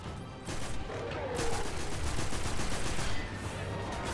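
Sustained gunfire in Destiny 2 while fixing Vex tech under attack, a steady stream of rapid shots and impacts over dense game noise, fairly continuous throughout.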